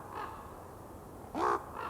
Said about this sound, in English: As they arrive and occupy roosting positions in the trees, the calls they make to each other are fascinating.